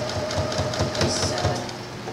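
A sewing machine stitching skirt fabric at medium speed, a steady close rhythmic mechanical whir and clatter running continuously throughout, no talking.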